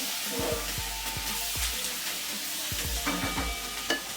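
Mutton gravy spices sizzle steadily in a pan over a medium-high flame, with repeated scraping strokes of a spoon stirring through them, close and fairly loud.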